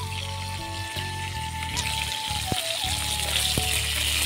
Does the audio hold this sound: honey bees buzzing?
no